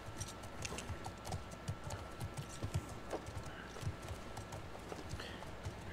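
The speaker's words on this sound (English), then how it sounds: "Hey, Four Eyes, give me my horse." Steady clip-clop of horse hooves trotting at an even rhythm in the video game The Last of Us Part II, with a faint background hum and light ticking.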